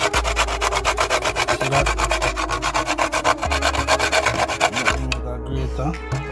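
Whole nutmeg is rubbed against a metal grater for Jamaican cornmeal porridge, making a loud, steady rasping scrape in quick repeated strokes that carries on for several seconds before slowing near the end, with a brief spoken remark.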